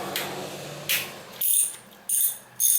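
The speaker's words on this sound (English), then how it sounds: "And you just loosen these nuts up so you can get the manifold off." A socket wrench loosening the intake manifold nuts on a 150cc scooter gives a few short ratcheting bursts at close range, separated by brief pauses, with no talking.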